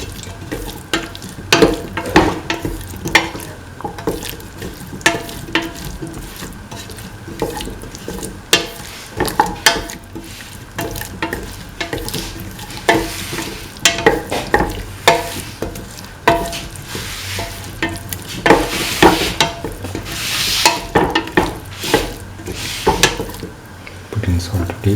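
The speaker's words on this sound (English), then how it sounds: "Mix the potato pieces. In the chili yogurt mixture." Potato pieces are stirred into a chili yogurt mixture, with repeated clinks and scrapes of a utensil against a pot or bowl, close and irregular, over faint background noise.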